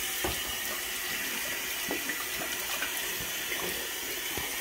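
Water runs steadily from a sink tap, a close continuous splashing rush with a few small knocks and clatters and no talk.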